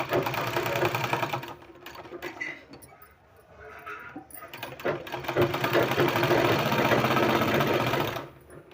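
A sewing machine stitching a two-year-old child's kurta runs in loud, steady bursts of rapid clatter, briefly easing off midway before resuming at full speed, close up with no talk.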